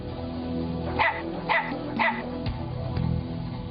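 A dog barks three times in quick succession, then a couple of softer barks follow, close by against a noisy background.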